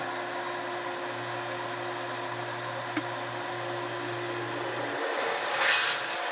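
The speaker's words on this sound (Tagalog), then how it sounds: "Pakinggan nyo yung tunog ng motor ng tubig namin." A household water pump motor runs steadily with a continuous low hum and drone, fairly constant in level, swelling slightly toward the end.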